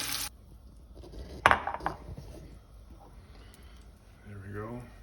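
Meat lifted out of a pan while cooking caldo verde, with scraping, clinking utensil and pan knocks in a short cluster near the start, faint sizzling after, and a person talking over it.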